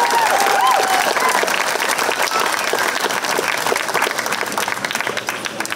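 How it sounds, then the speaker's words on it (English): A county fair talent search crowd applauds the performers, loud sustained clapping that fills the room and slowly tapers off toward the end, with a faint stray whistle early on. "let's give them another round of applause"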